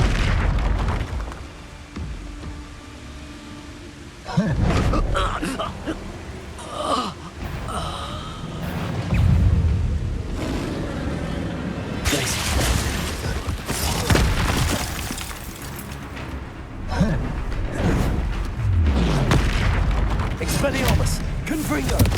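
Expulso spell explosions during combat in the video game Hogwarts Legacy: repeated heavy booms and blasts at close range, mixed with gasps and shouted voices, in a loud, busy battle.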